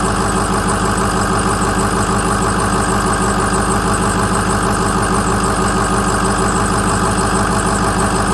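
A 2007 Ford F250 with the 6.0 diesel engine idles close and loud, a dense, steady rattling drone with rapid even pulses and no break or talk over it.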